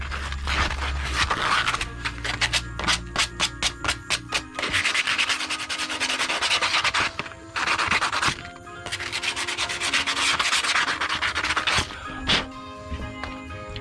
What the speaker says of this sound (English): Use me some sandpaper to clean it up.